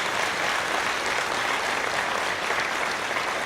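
Audience applause filling a room, a steady even wash of many hands clapping at moderate volume throughout, with no voices standing out.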